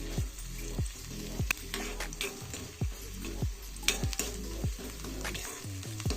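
Urad dal and peanuts fry in hot oil with a steady sizzle, broken by repeated scraping stirs of a spoon in the pan at a regular pace, close and moderately loud, with no voices.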